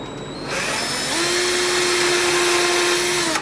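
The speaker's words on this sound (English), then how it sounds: "What I'm going to do now is just drill a little hole in here, a pivot hole." A power drill spins up and bores a small pivot hole in a wooden table top, with a steady whine held for about two seconds before stopping abruptly, loud and close.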